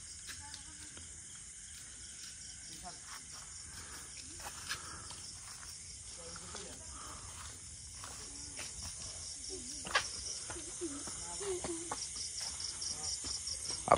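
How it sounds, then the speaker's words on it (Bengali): Crickets chirp at night in a village beside a madrasa and graveyard, a faint continuous high trill with soft rustles and footsteps, quiet and distant. "আপনারা হয়তো বা ঝিঝি পোকার শব্দ শুনতে পাচ্ছেন।"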